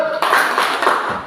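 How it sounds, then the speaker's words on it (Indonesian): A classroom group performs the tepuk gujok clapping routine, a short burst of loud, tightly bunched claps in rhythmic pulses, opening on a brief tone before the clapping starts. "Tepuk gujok."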